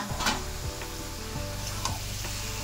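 About a kilo of chicken pieces fries in oil with a dense, steady sizzle, scattered spatters and scraping stirs over a low background hum, no speech.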